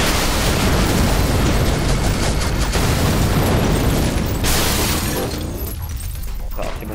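Rocket blasts and crashing debris in the Crashday car combat game, a loud, sustained roar of explosions with shattering bursts that thins out near the end.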